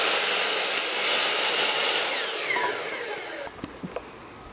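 Saw cutting through a cedar board for a window box planter, a loud sustained grinding whine that winds down after about three seconds, followed by a few sharp knocks and clatters of wood being handled.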